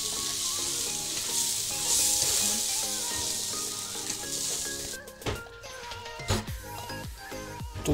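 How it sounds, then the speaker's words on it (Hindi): Besan mixture cooking in a kadhai for besan ladoo, a loud steady sizzle as milk hits the hot pan, easing after a few seconds into intermittent stirring scrapes and knocks. "फिर हम इसमें दूध डाल देंगे और इसको हम चलाते चलाते मिक्स करेंगे।"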